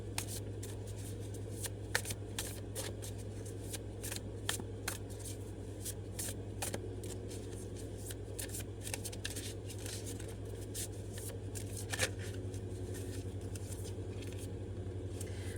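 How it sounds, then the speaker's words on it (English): Tarot cards are shuffled by hand in a continuous, soft, papery riffle with frequent small flicks and slaps, close and fairly quiet over a steady low hum, with no talk. "I'm going to pull one more tarot card just to kind of get a little, like one last little clarification."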